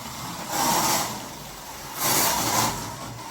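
A small Autobianchi A112 slot car whirs past twice, each pass swelling and fading, with a steady buzzing rattle underneath, including an interior rattle, and no voices.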